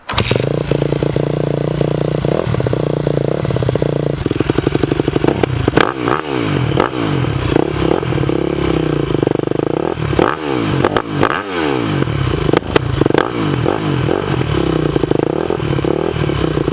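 A 2008 Yamaha YZ250F dirt bike engine cranks, catches and keeps running loud and close, with repeated sharp throttle blips revving up and dropping back over a steady idle, plus some mechanical clatter.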